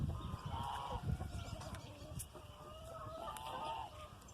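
Orpington and Carijó roosters cluck and make short honking calls close by, several brief throaty bursts scattered over a few seconds amid soft farmyard background noise.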